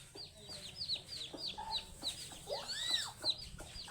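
Country hens cluck repeatedly in short rhythmic bursts close by, with a few higher chick-like peeps and a brief squawk mixed in, all fairly quiet.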